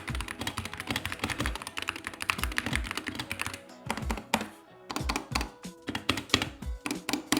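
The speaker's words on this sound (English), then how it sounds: "this is the sound test of the Apex Pro" Typing on a SteelSeries Apex Pro gaming keyboard, close up; rapid bursts of crisp key clacks and thocky bottom-outs, with a brief pause near the middle before the fast typing resumes.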